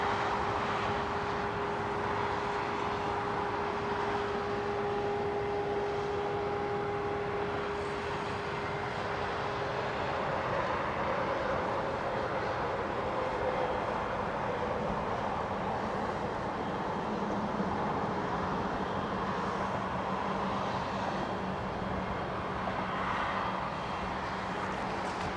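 A Lufthansa Airbus A320neo airliner arriving from Porto, heard at a German airport: a long, steady roar with a low whine, moderately distant and sustained throughout, with no voices.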